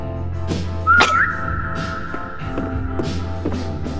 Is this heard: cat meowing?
no